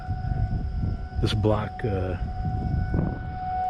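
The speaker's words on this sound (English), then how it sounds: "you guys can hear the tornado sirens" A long wailing tornado warning siren drones in the distance while people talk nearby, the voices louder than the siren.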